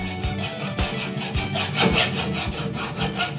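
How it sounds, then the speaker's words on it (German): Metal parts for an old Lanz Bulldog tractor are filed by hand in a family restoration workshop, a steady rhythmic back-and-forth rasping with regular strokes, close and fairly loud, with no talk. "In der Familienwerkstatt wird geflext, gefräst und gefeilt."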